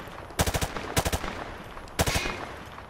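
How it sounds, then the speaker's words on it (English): Automatic gunfire sprayed from the hip in Call of Duty Modern Warfare 2 comes in three short, close bursts of rapid shots, separated by brief pauses, over a faint steady background hum. "He sprayed bullets all over the damn place"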